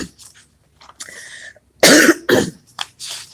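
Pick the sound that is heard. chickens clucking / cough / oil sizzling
cough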